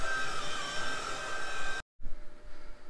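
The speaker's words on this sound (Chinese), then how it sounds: "然后就是吸地。" A vacuum cleaner runs with a steady, close whooshing roar inside a camper van, cuts off abruptly for a moment, then starts up again more faintly.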